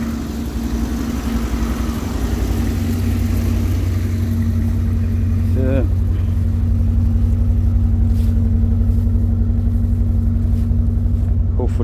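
A car engine idles steadily and loudly close by in a backyard, a constant low rumble with a faint mechanical whine, while someone talks briefly over it.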